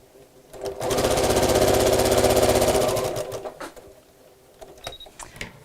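A sewing machine runs in one steady burst of fast, even stitching for about two seconds as it sews a small fabric box bag, then stops, leaving quiet handling noises.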